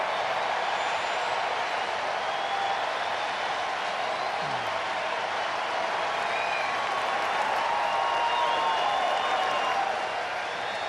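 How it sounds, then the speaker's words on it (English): A large baseball crowd at Truist Park during a Mets versus Braves game gives a sustained, broad roar of cheering and clapping that holds steady for the full stretch, with a faint commentary voice beneath. "And now for the first time tonight, the Truist Park crowd gets into it."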